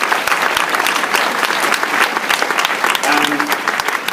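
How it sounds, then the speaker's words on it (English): Loud, sustained applause from a crowd, steady clapping throughout with a few brief cheers mixed in. "Just stop there and give them applause."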